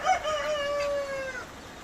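A rooster crows once in a single drawn-out call at a chicken coop in the evening rain, fairly close and clear.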